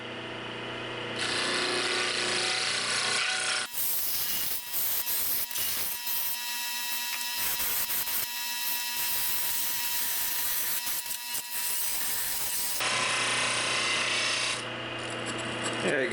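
Wood turning on a lathe with a skew chisel, a continuous rasping, scraping cut running steadily for most of the stretch, with a quieter spinning hum at the start and end.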